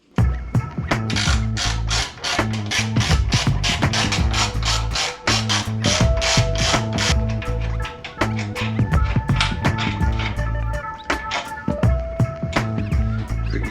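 Hand tools fitting an SW Motech tank ring onto a KTM Duke 790 motorcycle: a fast run of close, sharp ratcheting clicks, steady and rhythmic, with a few brief squeaks as screws are driven.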